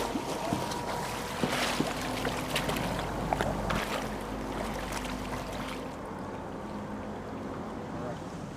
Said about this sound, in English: deafened by the sound of 30 boats churning up half a mile of sea